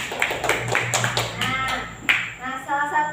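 Children clapping in a classroom, a few rhythmic hand claps mixed with young voices chanting or talking over them.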